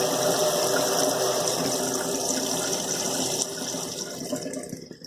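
Filtered water runs steadily from a Spardar Model 07 filter tap on the British Trade Range, a continuous close splashing flow that eases slightly toward the end.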